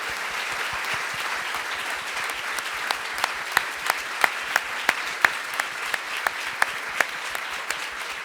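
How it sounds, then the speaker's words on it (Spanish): Spontaneous applause from an audience at a book fair presentation, steady dense clapping that settles into a few louder rhythmic claps toward the end. "Buenísimo el aplauso espontáneo"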